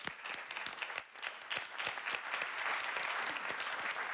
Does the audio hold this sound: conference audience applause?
yes